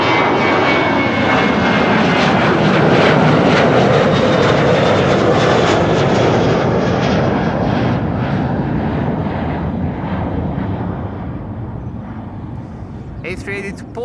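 Airbus A380 jet departing Amsterdam Schiphol Airport, a loud, broad engine roar that holds steady and then slowly fades as the aircraft climbs away, with brief faint sounds near the end.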